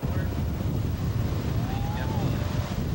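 Ocean surf at a beach where injured servicemen ride waves, heard as a steady wash of breaking water and wind buffeting the microphone, fairly quiet, with a faint voice in the background.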